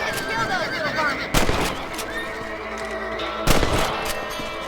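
Two sharp, loud gunshots crack a couple of seconds apart while hunting rabbits in Red Dead Redemption Remastered, each ringing out over a bed of game ambience and music.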